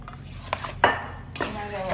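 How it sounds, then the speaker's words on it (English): A wooden spoon scrapes and clatters against a metal sheet pan while stirring shrimp in seasoning, giving a few irregular close scrapes and knocks with short pauses between strokes. "Now stir that all up, get it coated really well with the seasoning."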